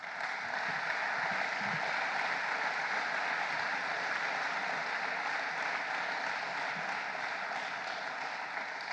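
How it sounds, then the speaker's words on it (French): Sustained applause from a conference audience at an opening session, an even wash of clapping from a large hall that holds steady throughout with no voices on top. "Et je pense que vous pouvez aussi vous applaudir."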